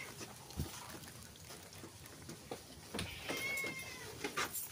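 Several cats meow in short calls against a faint background, with brief louder cries and some light clatter near a feeding trough.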